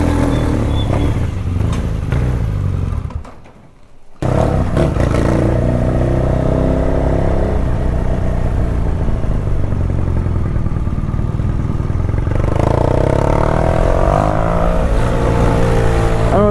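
A BMW 1200 motorcycle on a food-delivery ride, its engine droning steadily and close with wind rush, briefly dropping away as the rider eases off, then returning to a steady cruise.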